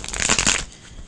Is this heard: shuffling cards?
yes